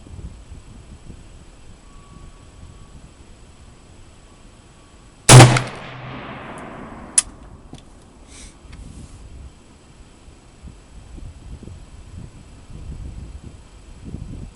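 A single sharp Galil SAR rifle shot fired at a target outdoors, loud and close with a short ringing tail, followed by a faint click, against quiet background.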